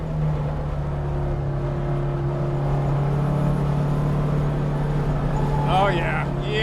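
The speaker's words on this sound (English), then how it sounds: "Oh, you little Porsche, you little sweetheart." A vintage Porsche 356 racing on a track, its engine holding a steady droning note under the onboard wind rumble, with a brief voice near the end.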